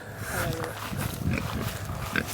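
Pigs grunting and snuffling close by on a farm in McDowell County, with a steady run of low, rough grunts throughout and a faint voice murmuring underneath.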